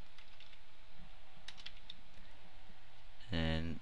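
Computer keyboard typing in quick, light clicks while working in Flash ActionScript 3, a close run of keystrokes ending in a louder burst of noise.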